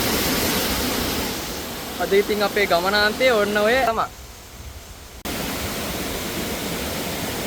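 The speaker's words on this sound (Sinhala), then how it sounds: "ඔන්න සුන්දර නලගන ඇල්ල." Broadband rushing roar of the Nalagana waterfall fills the scene steadily, dropping out briefly midway, while someone speaks over it at length.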